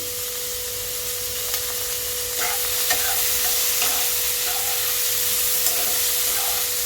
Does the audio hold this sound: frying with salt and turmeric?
yes